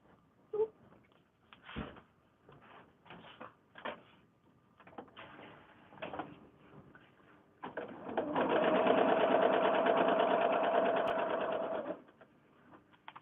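A sewing machine chain-pieces small white patches onto Japanese quilt blocks in a lotus flower design, starting with scattered clicks and handling noises before a steady, loud stretch of continuous stitching that stops abruptly.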